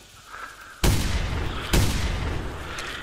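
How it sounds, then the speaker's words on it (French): Two sharp, loud gunshots fired into the air in a survival video game, each a sudden broadband crack followed by a lingering echoing tail, spaced just under a second apart over quiet ambience. "je tire en l'air en plus"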